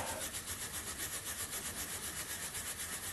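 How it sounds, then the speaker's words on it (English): A stainless steel wire brush scrubs porous aluminium after brazing, in quick regular back-and-forth strokes, loud and close, with a steady rasping rhythm and no voices. "wire brush it"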